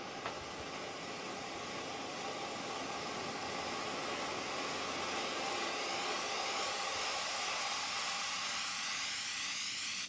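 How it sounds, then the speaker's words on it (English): A hissing white noise riser swells steadily over ten seconds, a broad airy wash growing slightly brighter toward the end before cutting off. "It's also got a second riser that with it, which is more white noisy."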